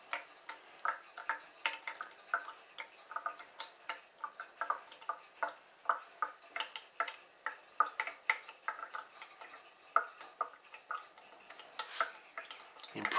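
Water trickles through a filter in a quiet room, dripping in an irregular patter of small, close, separate drops.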